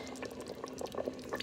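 Liquid boiling in an Instant Pot, a close, quiet burble of popping bubbles in quick irregular bursts over a faint steady hum.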